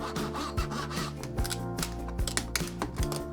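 A hand chisel pares scrap wood for a catch-all tray, giving soft scraping strokes and light taps in an uneven rhythm, close and fairly quiet.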